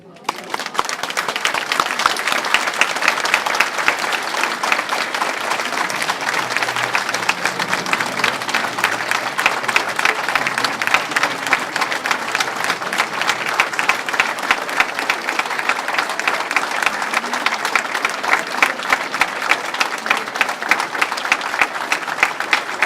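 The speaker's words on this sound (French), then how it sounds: "vos applaudissements, puis votre silence" An audience claps steadily and loudly for more than twenty seconds for a guest of honour at a luncheon, a dense, unbroken wash of applause with faint murmurs underneath.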